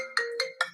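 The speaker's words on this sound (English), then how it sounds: "Sorry, that was my phone." A mobile phone ringtone plays three quick bright electronic bursts in a rising, melodic pattern, fairly close and clear with no talking over it.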